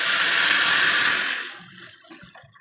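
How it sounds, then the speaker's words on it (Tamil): Rice-washing water, the second rinse, is poured into a simmering white chickpea kurma, giving a loud, steady splashing gush for about two seconds that quickly fades to faint bubbling. "அரிசி 2வது தண்ணி ஊற்றிக்கலாங்க."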